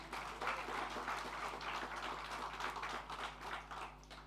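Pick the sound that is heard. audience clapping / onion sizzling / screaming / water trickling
audience clapping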